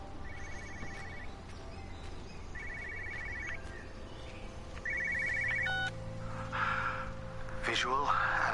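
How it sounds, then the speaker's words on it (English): An old-style telephone bell rings in bursts inside the video game Everybody's Gone to the Rapture, three rings spaced a second or two apart over steady background hum and ambient game sound. "I can hear a phone."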